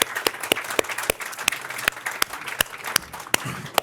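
An audience applauds at a health-anxiety talk event, with sharp individual claps standing out over a steady wash of crowd clapping, close and continuous.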